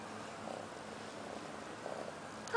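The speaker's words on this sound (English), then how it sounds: "And he purrs very, very loudly." Close, loud, continuous purring from a black kitten perched on someone's shoulders, a rumbling drone with faint rhythmic breathing swells and a small bump at the end.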